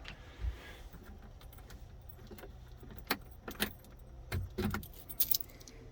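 Keys jangle and clink in the ignition of an old, broken boat, a handful of light metallic rattles in short bursts against a quiet, low background hum.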